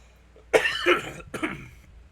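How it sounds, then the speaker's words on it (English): Two coughs, close and fairly loud, the first harsher and longer, the second shorter, with quiet in between. "Sorry about the coughing, but that's just how it goes sometimes."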